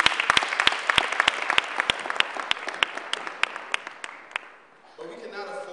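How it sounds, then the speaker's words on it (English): Audience applause at a Philadelphia rally honoring women, with dense clapping and sharp individual claps filling most of the stretch, thinning toward the end before a voice begins speaking. "Ms. Michelle Obama, so we must applaud our beautiful women"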